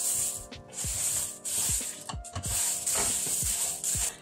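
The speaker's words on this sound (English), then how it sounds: "I'm going to add in 4 cups of cornflakes" Cornflakes are poured into a melted honey mixture and stirred, giving crisp rustling and crackling swishes in uneven bursts, close up and fairly loud, with no voices.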